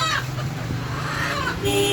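Chickens at a poultry shop cluck and squawk close by in a short, busy burst, with faint voices mixed into the background.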